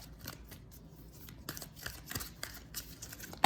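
Tarot cards pulled from a deck for a reading, heard as soft, quiet rustles and light papery flicks in irregular bursts, with a sharper handling noise at the very end.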